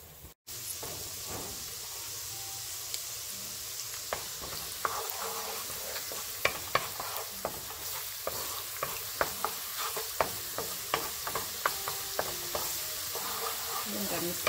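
Garlic sizzling in a hot pan as the base for a spaghetti tomato sauce, a steady broadband fry with a dense run of sharp stirring clicks and scrapes, close and fairly loud, no talking.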